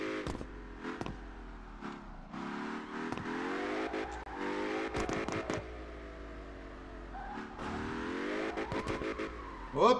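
A BMW drift car in CarX Drift Racing revs hard and steadily for ten seconds, its engine note rising and falling with throttle bursts, punctuated by sharp tire squeals and skids, loud and continuous with no voices.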